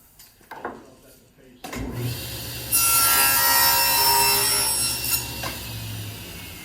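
A table saw runs up and bites into a wooden test piece for a miter joint, a loud sustained whine with a rough sawing rasp that builds after a short quiet start and holds steady before easing slightly.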